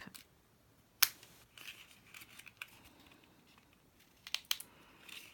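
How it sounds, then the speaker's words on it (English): Scissors snip through folded foil, a few sharp, crisp cuts with light crinkling between them, close and quiet with no talk. "So just a couple of folds and snip."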